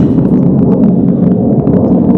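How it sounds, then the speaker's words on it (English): Steady, loud rumbling roar of a military jet passing over Yuma near a military base, continuous throughout with no voices. "there's a military base here in Yuma, so you hear a lot of jets"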